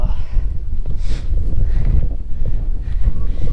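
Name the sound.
strong wind on a mountain trek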